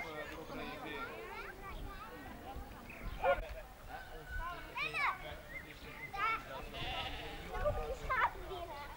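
Sheep bleat repeatedly at a children's farm during a sheepdog herding demonstration, with several close calls over steady talk and children's voices in the background.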